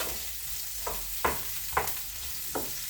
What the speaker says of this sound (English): I'm just going to give that a good stir in the olive oil